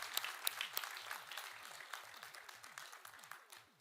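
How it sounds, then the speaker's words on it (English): An audience at a university convocation ceremony applauds, with many hands clapping in a brisk, even patter that fades gradually over a few seconds, and no talk is heard. "A huge round of applause for Honorable Chancellor"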